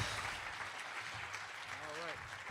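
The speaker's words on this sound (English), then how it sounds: "One more round of applause for our brother Illuminati Congo" Audience applause at a live spiritual conference session, steady crowd clapping filling the room at moderate volume, with a voice briefly speaking over it.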